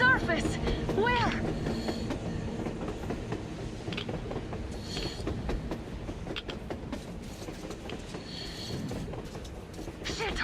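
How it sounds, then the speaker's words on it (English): A train rolls past on the surface in Metro Exodus, a continuous rumbling clatter of wheels with occasional squeals, loud and sustained while people talk over it. "A train! A damn train on the surface!"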